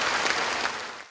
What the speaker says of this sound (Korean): 다시 한번 박수 주세요.